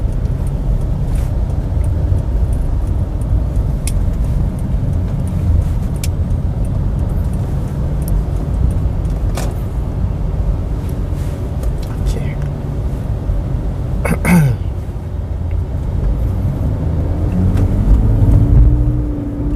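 A Toyota Prius hybrid car cruises on a longer stretch of road during a test drive, its steady engine and road rumble continuous throughout, with faint clicks and a brief whoosh near the end.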